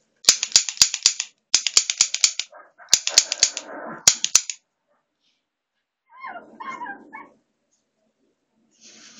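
A toy cap gun fires in quick bursts of sharp snapping shots, several salvos of rapid cracks with a ratcheting mechanical rattle in between, then a softer clattering handling noise and a brief final burst, loud and close.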